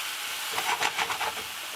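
Vegetable lo mein ingredients sizzle in a pan, a soft steady hiss with a few stirring scrapes on top, quiet and close, with no voices.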